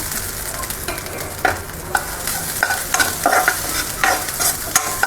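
Barnyard millet (bhagar) is dry-roasted in a pan on a gas stove, a spoon stirring and scraping the grains in repeated brisk strokes over a steady rustling sizzle.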